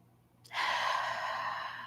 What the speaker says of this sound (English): we might start by taking a few deep breaths